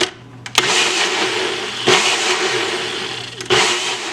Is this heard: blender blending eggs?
yes